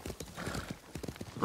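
Horse hooves clip-clop steadily at a quick gait in the video game Ghost of Tsushima. The hoofbeats are close and rhythmic, layered over game ambience, and a brief whinny-like burst comes at the end.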